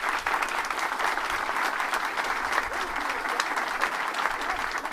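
A lecture audience at a talk fills the room with sustained, even applause lasting several seconds, loud and dense throughout, with no speech over it.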